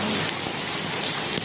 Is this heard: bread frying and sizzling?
no